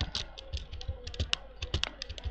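A computer keyboard is typed on in quick, uneven clicks, close up and moderately quiet, with no voice over it.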